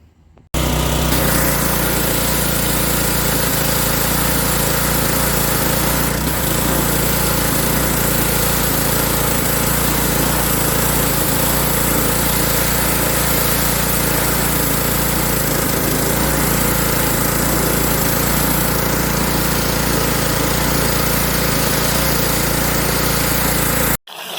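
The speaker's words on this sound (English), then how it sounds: "I'm going to pressure wash it with the borrowed pressure washer over there." A borrowed pressure washer runs steadily while cleaning a vehicle's engine bay, its engine drone and spray hiss loud, close and unbroken for the whole stretch with no talking.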